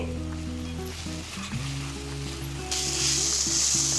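Raw mango pieces with turmeric frying in a pan, a steady close sizzle with soft scraping, growing brighter and louder near the end, no voices.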